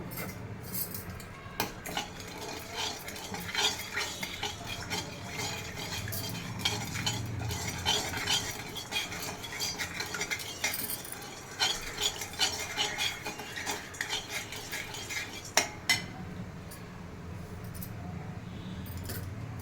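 A tempering of chana dal, urad dal, mustard seeds, asafoetida and dried red chillies crackles softly in a pan. A spoon scrapes and clinks against the metal in an irregular rhythm throughout.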